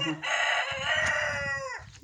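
A rooster crows loudly once in a village poultry yard, a long drawn-out cry with rich harmonics that rises, holds, then drops off at the end.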